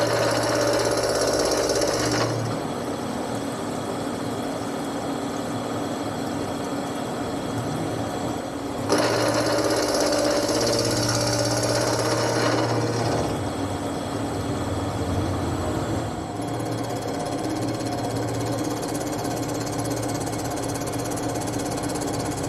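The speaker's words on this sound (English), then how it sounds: "It's going to machine basically this off of the main cap down to this face, make it nice and flush and flat" A milling machine machines an engine centre main cap down to a flush, flat face, making a loud, continuous grinding roar with a steady mechanical whine that shifts slightly in pitch as the passes change, with no speech.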